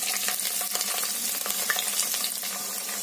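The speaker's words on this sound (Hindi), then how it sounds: "अब इसमें हम हरी कटी हुई मिर्ची डालेंगे।" Chopped green chillies hit hot oil already holding bay leaf and cumin, setting off a dense, crackling sizzle with rapid spitting pops, loud and close throughout with no talking.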